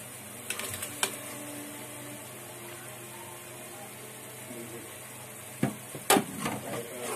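Shrimp and rohu fish pieces sautéing in a pan for Sylheti shutki shira, a soft continuous sizzle with occasional sharp stirring clinks and scrapes close by.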